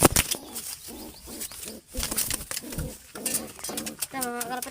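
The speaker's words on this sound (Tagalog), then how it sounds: "Tignan mo ito mga kalapatids." Pigeons coo nearby in repeated low throaty calls, mixed with occasional wing flutters, while a person talks over them.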